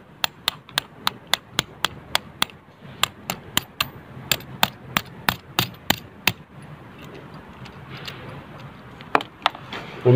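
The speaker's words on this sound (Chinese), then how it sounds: "然后呢用锤子扎" A hammer strikes an expansion screw anchor into a wall in rapid, regular sharp taps, about two dozen close, crisp blows with brief pauses.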